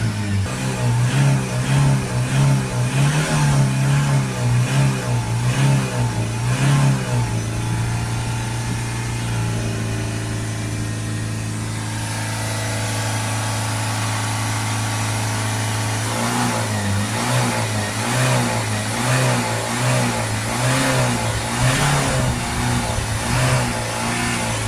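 A Citroen Relay 2.2 diesel engine is revved repeatedly to build boost while clearing its particulate filter, pulsing rhythmically, easing to a steady hold mid-way, then resuming the throbbing revs; loud and close, no talking.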